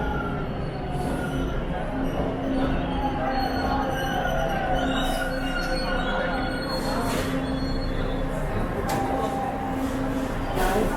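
A Toronto subway train on Line 2 at busy Bloor-Yonge Station, a steady rumble with recurring wheel squeals and a faint background hum, heard from on board or the platform.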